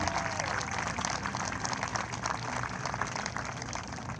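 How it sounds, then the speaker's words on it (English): Steady applause from a crowd at a Polo Grounds racing show, dense continuous clapping throughout at an even level. "she deserves a wonderful round of applause"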